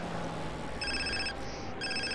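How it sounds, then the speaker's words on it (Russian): Phone ringing inside GTA San Andreas, a steady electronic trill repeating in two bursts over constant game background noise, close and clear with no talking. "Телефонный звонок."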